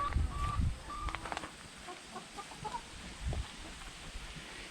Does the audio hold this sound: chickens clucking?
yes